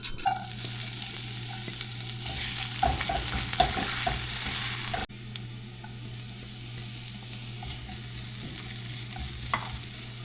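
Garlic sautéing in a pan for meatloaf, a steady close sizzle with occasional scraping stir strokes, continuing alone without talk and dipping briefly midway before carrying on.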